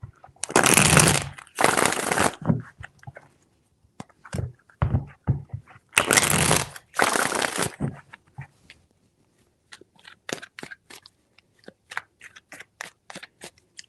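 Tarot cards shuffled in quick riffling bursts, two pairs of loud fluttering riffles separated by softer taps and card handling, close up and with no talk.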